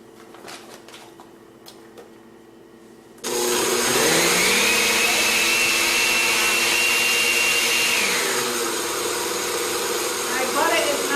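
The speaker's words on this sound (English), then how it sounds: "All in the blender." A quiet kitchen with faint clatter gives way to a blender suddenly roaring to life, whipping torrone ingredients including butter and baking powder; its loud, steady whir runs close and uninterrupted to the end.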